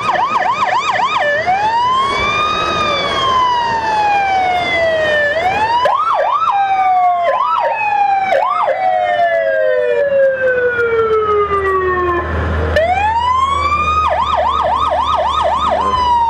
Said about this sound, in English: Cadyville Fire Department, engine number 136 is next.